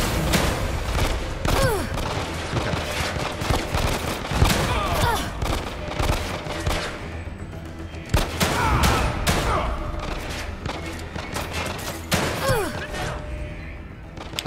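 Rapid gunfire with unlimited ammo in The Evil Within 2, dense bursts of shots and booming impacts crowding together, loud and near, with a voice talking over parts of it.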